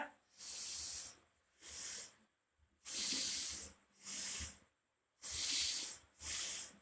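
Forceful rhythmic breaths from a yoga breathing exercise, six loud hissing exhalations in pairs with brief silences between them, close and unaccompanied.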